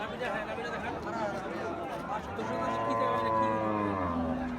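Cattle at a livestock market give a drawn-out, loud moo in the second half, after mixed lowing and the chatter of nearby people.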